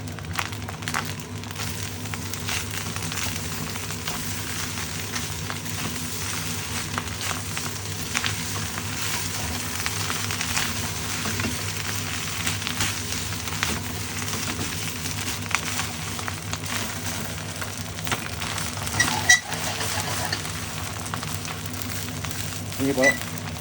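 Egg for egg fried rice sizzling steadily in a hot non-stick pan, a continuous close frying hiss with a few louder spits, under a faint background hum.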